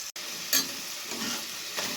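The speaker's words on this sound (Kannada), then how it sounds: "ಒಂದು 10 ನಿಮಿಷ ಹಂಗೆ ಫ್ರೈ ಮಾಡ್ಕೋಬೇಕು." A spiced mixture for mutton sambar fries in a pan with a steady, close hiss, and a couple of brief stirring scrapes break through it.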